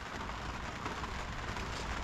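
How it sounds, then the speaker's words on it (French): Steady rain falls outdoors in Gaspé, Québec, a soft, even hiss with no break or voices, faint and constant throughout. "Il pleut."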